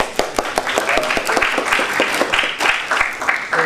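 Applause for clients at an evening briefing session, a small group clapping loudly and unevenly with sharp individual claps close by, faint voices mixed in.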